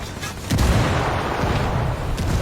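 A frag grenade detonates in the Ghost Recon Wildlands video game with a heavy boom about half a second in, followed by sustained rumbling gunfire and blasts that keep the mix dense and loud.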